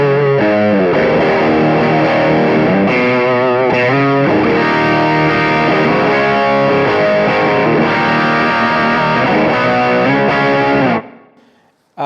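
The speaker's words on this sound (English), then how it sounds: "This is kind of the mid-gain, kind of Marshall-y, like 800 type sound" Electric guitar through a mid-gain Marshall 800-style amp channel, played as loud, dense distorted chords and riffs with little reverb, continuous for about eleven seconds before ringing out and fading.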